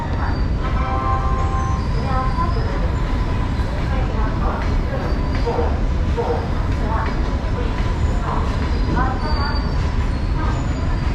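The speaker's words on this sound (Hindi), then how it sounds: "अभी ये कुछ नज़ारा है रेलवे स्टेशन का यहाँ पे" Indian railway station in the early morning while waiting for a Shatabdi train: steady rumbling rail noise with distant clanks, murmuring crowd and faint announcements, a dense continuous ambience.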